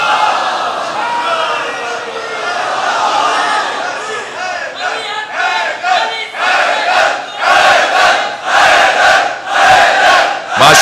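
A large crowd loudly chants salawat together in unison, a sustained roar of many voices swelling into rhythmic, surging bursts toward the end.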